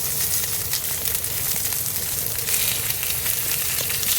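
Chicken pieces browning in a frying pan, a steady, loud sizzle of hot oil that continues without pause, with no talking over it.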